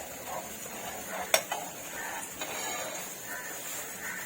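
Ghee heating in a frying pan on a gas stove, a soft low sizzle with a sharp metallic clink of a spoon against the pan and a few lighter taps, close and fairly quiet.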